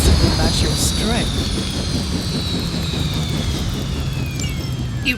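A helicopter in flight during a Midnight Suns battle against Hydra forces roars with a loud, steady engine and rotor drone throughout, with a rising whine on top.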